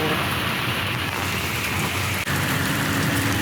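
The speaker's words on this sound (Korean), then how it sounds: "비도 오고" Steady rain falls during a motorbike trip in Vietnam, a close, continuous hiss with faint background noise.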